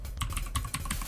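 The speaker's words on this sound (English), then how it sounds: "I'm just going to type in a cheat code" A cheat code typed on a computer keyboard for the game Descent II, with a quick run of close key clicks in a steady rhythm over low background hum.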